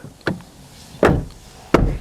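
A Ford Ranger XL+ Sport pickup's door shuts three times in quick succession, each a sharp, close thump followed by a brief quiet gap.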